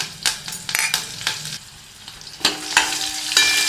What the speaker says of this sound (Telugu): ఇప్పుడు 2 పచ్చిమిర్చిను కొంచెం నలగొట్టిన 4-5 ఎల్లిపాయ రెబ్బలు, ఒక 10 గల్ల కరివేపాకు రెబ్బలు వేసుకుందాం